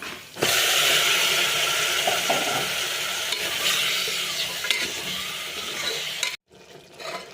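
Loud, steady sizzling of mutton frying with garlic paste in a hot pan, with occasional stirring clatter, then it cuts off abruptly near the end.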